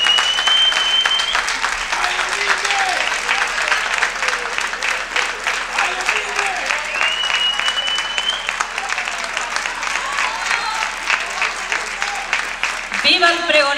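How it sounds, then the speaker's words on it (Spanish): An audience at the San José de Las Longueras festival proclamation in Telde claps loudly and steadily for the festival speaker, with a few voices calling out near the end. "Pues un fuerte aplauso."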